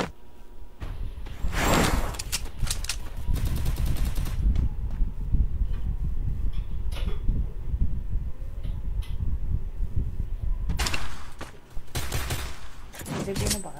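Gunfire in a shooting video game: bursts of automatic fire, loud early on, then a long stretch of steady game ambience with scattered shots, and another pair of bursts near the end.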